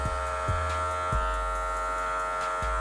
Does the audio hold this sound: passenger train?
no